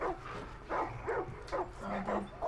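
A Far Cry 5 puppy being petted gives several short, soft yips and whimpering barks in quick succession, fairly close and moderately quiet, with a faint murmur of voices underneath.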